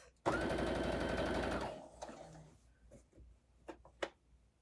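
A sewing machine basting a seam in one fast, loud run of about a second and a half, followed by a few faint clicks and fabric handling noises.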